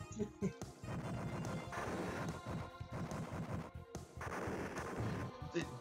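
Explosions from rolling grenades in the Sega CD game Final Fight CD boom in a loud, dense string of heavy blasts and crashes over game music, with a short pause before another burst.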